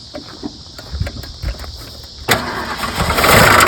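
A 1974 Ford Maverick engine that has sat unused for eight years, cranking in short uneven bursts before catching and roaring up to a loud, rough idle that builds toward the end.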